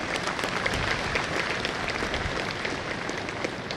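Steady applause from a crowd of spectators greeting the chief guest at a CRPF police passing-out parade outdoors, continuous and even throughout with no speech over it.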